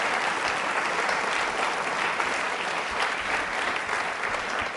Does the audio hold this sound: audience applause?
yes